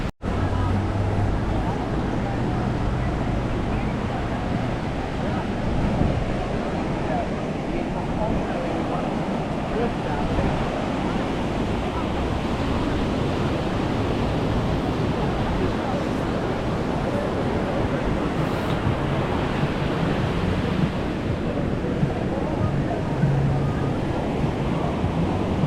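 High-tide ocean waves roll onto Tamarindo beach in Costa Rica, a continuous loud surf wash heavily buffeted by wind noise on the microphone.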